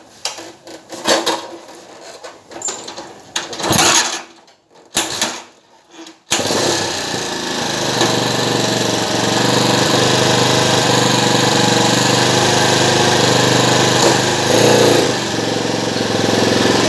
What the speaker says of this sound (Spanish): la moto arranca, pero no se mueve